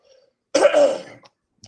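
A single harsh throat clearing that turns into a short cough, close and fairly loud, with brief quiet before and a small throaty sound after.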